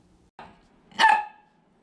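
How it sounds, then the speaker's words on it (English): A single dog bark close by, preceded by a brief soft grumble, then silence. "What are you barking for?"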